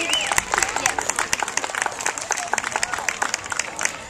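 An audience applauds at a kempo martial arts demonstration; brisk scattered clapping from a modest crowd, steady for several seconds with occasional voices mixed in.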